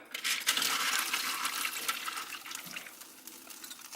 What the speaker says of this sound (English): hopefully we add this, the drippings from the meat and from our pan